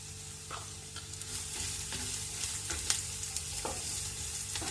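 Onion and green chili fry and sizzle in a pan for a curd brinjal curry, with a steady hiss under repeated scraping stirs of a spoon, close and moderately loud, no voices.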